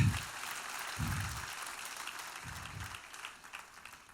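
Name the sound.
church congregation applauding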